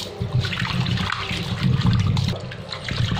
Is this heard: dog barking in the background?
no